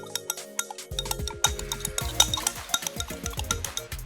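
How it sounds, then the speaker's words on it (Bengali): Potassium is stirred into liquid soap in a container: close, quiet scraping and clinking of a utensil in a rapid, irregular rhythm, with no talking. "এই পটাশিয়াম আর তরল সাবানটা আমি এখন মিশিয়ে নেব।"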